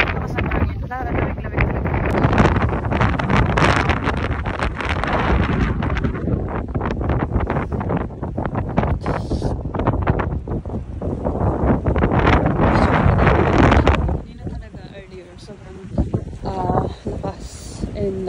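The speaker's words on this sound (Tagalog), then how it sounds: "grabe lakas ang hangin" Strong cold wind buffets the microphone on a ship deck in bad weather, a loud continuous roaring rumble with gusty surges that eases slightly near the end, while a person talks underneath.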